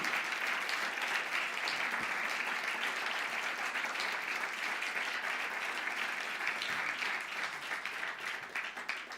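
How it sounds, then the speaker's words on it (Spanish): Sustained applause from a church congregation, dense and even, holding steady for several seconds before starting to thin out at the end. "Dale un aplauso al Señor en esta hora"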